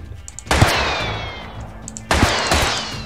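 Game gunfire from Totally Accurate Battle Simulator: two sharp bursts of rapid shots, each a loud crack followed by a ringing, rattling tail, with a brief lull between volleys.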